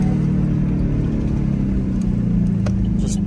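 A Chevy Equinox with a worn wheel bearing drones and hums steadily on the road during a test drive, a low continuous rumble that carries through the whole stretch with only slight variation.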